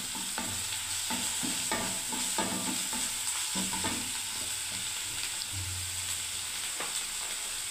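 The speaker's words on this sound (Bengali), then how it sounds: "এবার ভালো করে আমি আরেকটু ভাজতে থাকি" Onion paste and spices fry in a pan with a steady hiss, while a spatula scrapes and stirs in irregular soft strokes throughout, close and moderately quiet.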